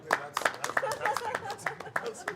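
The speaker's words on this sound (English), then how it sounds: "What's the applause?" Scattered hand claps from a crowd at a live no-limit hold'em poker tournament, irregular and moderately loud, mixed with background chatter.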